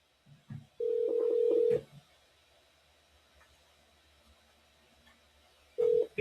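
Telephone dialing tones for a call to an immigration enforcement tip line, sounding as a steady tone burst about a second long, a second burst near the end, and faint clicks and quiet line hiss between them.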